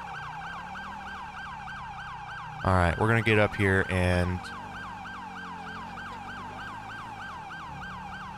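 An ambulance siren in GTA V wails in a repeating up-and-down cycle throughout, with someone briefly talking over it midway.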